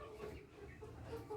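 Chickens cluck softly and repeatedly in a busy coop as they go to drink water, short calls overlapping against a low background rumble.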